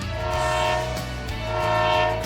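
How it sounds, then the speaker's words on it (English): A train sounds its horn as it pulls into the whistle stop beside the Placer River in Alaska: a loud, sustained multi-tone blast that swells and holds over the low rumble of the rolling train. "the train was coming in"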